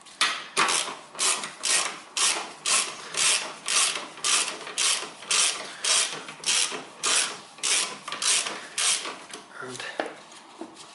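A hand ratchet loosens bolts during a clutch replacement on a front-wheel-drive car, a steady run of about twenty sharp, evenly spaced clicking strokes at close range with no talk.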